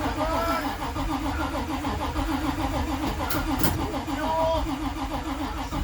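A 1981 Chevrolet Camaro Z28 engine running just after a cold start, a steady close mid-pitched rumble with a rough idle throughout, alone and fairly loud.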